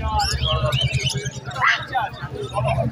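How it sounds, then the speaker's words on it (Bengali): Budgerigars chirping and twittering in cages at a busy pet bird market in Dakshineswar, their bright calls mixed with nearby pigeon-like coos and someone talking over the birds. "এই হচ্ছে বদ্রি।"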